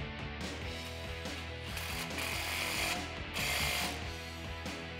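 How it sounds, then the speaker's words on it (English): A socket ratchet tightens an exhaust clamp on a RAM 1500 during installation of a Rough Country dual exhaust, giving quick rhythmic clicking bursts close up and fairly quiet, with no talking. "grab your 15 socket and get that snug."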